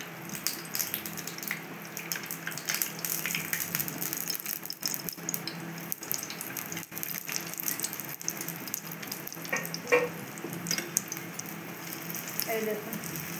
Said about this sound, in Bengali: এই দেখুন এখন চেপে চেপে করে ভেজে, এইভাবে চেপে চেপে করে ভেজে নিতে হবে।